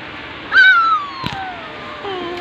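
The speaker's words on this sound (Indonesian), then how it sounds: "Itu meongnya datang." A single cat gives one clear, drawn-out meow that slides downward in pitch, close and fairly loud, followed by a faint shorter mew over quiet background.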